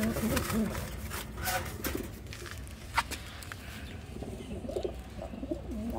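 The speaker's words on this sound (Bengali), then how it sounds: "নরটা অনেক সুন্দর ডাকতেছে" A male pigeon gives soft, repeated throaty coos beside a female it is being paired with, along with light scuffling and shuffling sounds.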